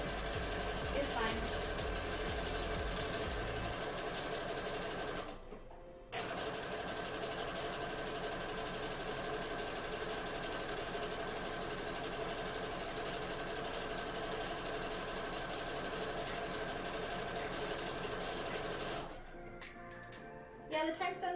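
A sewing machine runs steadily while stitching cosplay fabric, a continuous mechanical whir that drops out briefly near the six-second mark and again near the end, with talk faintly beneath.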